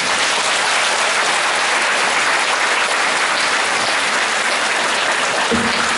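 Sustained, dense applause from a large audience after Professor Yu Hong-jun's cultural heritage lecture at Gumi's Yaeun Academy, loud and even from start to finish.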